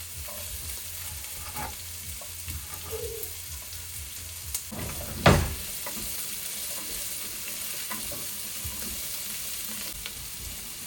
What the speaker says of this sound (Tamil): தேங்காய் எண்ணெய் ஊற்றிட்டு நறுக்கி வச்ச வெங்காயம், பூண்டு, பூண்டு, ஜிஞ்சர்,